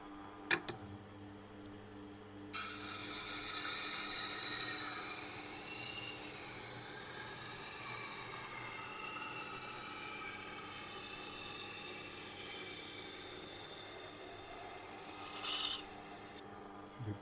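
The heel of a new knife, such as a Wusthof or Victorinox, rasps against the grinding wheel of a Tormek sharpener with a continuous close scraping and grinding that runs steadily for about fourteen seconds and then stops.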